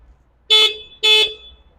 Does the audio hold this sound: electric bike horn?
yes